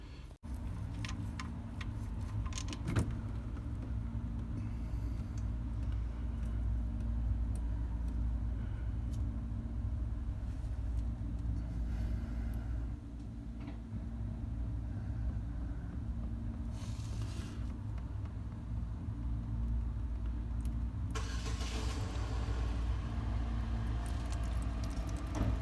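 Chevy Cobalt engine idling to warm the oil before an oil change, a steady low hum with faint ticking, continuous and close throughout.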